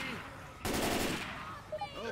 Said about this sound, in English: which means I'm going to shoot in all these things